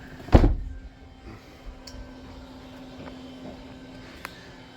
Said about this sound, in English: This thing's on gas struts.